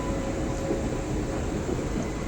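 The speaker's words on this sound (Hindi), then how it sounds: "ट्रेन तो निकल चुकी है अब अमृत भारत" The Amrit Bharat Express, on its inaugural run, rumbles steadily after pulling out of the station: a continuous, loud, low-heavy rolling roar with no break and no voices.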